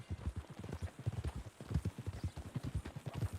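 Horse hooves clip-clop in a brisk, steady rhythm on hard ground in the Red Dead Redemption 2 video game, close and continuous with no talk over them.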